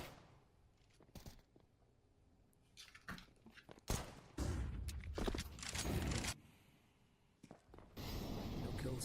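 A P250 pistol firing in Counter-Strike 2 during a competitive esports semi-final match, heard as several sharp shots scattered among louder bursts of in-game noise.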